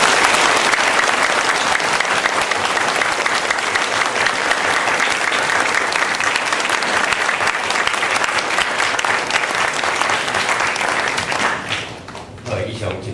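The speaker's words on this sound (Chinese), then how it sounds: "咱大家用真热情、真感谢的心来给鼓掌一下吼" Loud, dense applause from a large congregation at a 1999 Christmas Messiah service, continuous heavy clapping that drops off sharply near the end, leaving a few scattered claps.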